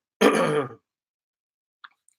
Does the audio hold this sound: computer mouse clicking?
no